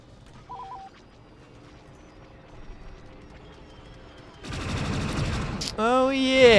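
Gunfire from the Star Wars Battlefront 2 (2005) mod on the Eadu: Tunnelbound map: a quiet stretch gives way to loud, dense bursts of rapid shots near the end, followed by a whining, sweeping blaster-like tone.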